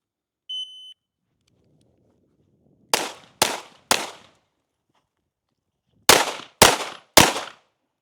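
Gunfire at a tactical shooting class: a short electronic timer beep, then two quick strings of three sharp, loud shots each, separated by a pause.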